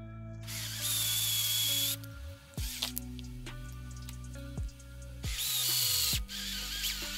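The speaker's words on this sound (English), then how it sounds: "I'm not actually pushing on the drill. I'm letting the bit do all the work." A power drill whirs in two long bursts into a diecast Hot Wheels car, its pitch winding up and down between runs, close and fairly loud, with no talking.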